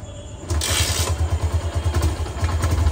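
A motorcycle engine runs close by with a steady low rhythmic chugging, its revs rising after a brief quieter start, as if the bike is moved or ridden off slowly.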